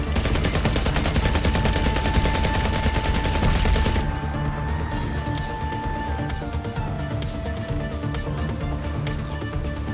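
Rapid automatic gunfire in the VR shooter Vertigo 2 on PS VR2, a dense continuous burst for about four seconds, then sparser single shots and clanks with a thin electronic tone beneath.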